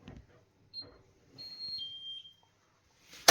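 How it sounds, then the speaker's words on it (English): A laundry dryer gives a few faint high electronic beeps, one short and then two longer tones, amid quiet room noise with a brief rustle at the end. "And it will keep beeping if I don't open this up."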